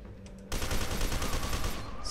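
Continuous assault rifle fire in F.E.A.R. 2, a loud rapid automatic burst that kicks in after half a second of quiet and rattles on steadily to the end, with no talk.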